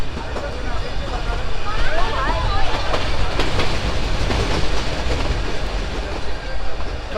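The Ooty toy train running on its rails through a tea-garden valley, a loud continuous rumble with rhythmic clickety-clack of wheels heard close from on board, with voices in the background.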